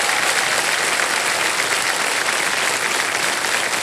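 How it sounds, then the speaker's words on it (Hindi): A studio audience on the quiz show KBC claps loudly and continuously, a dense, unbroken wash of applause. "ताली बजती रहे इनके लिए।"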